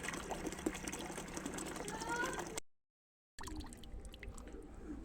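Water runs steadily into a container for pigeons at a pigeon farm, a continuous broadband rush that cuts out briefly and then resumes, with faint background sounds.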